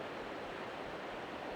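The river near Steelhead Falls rushes in a steady, even wash of broadband water noise, fairly faint and continuous, with no voices.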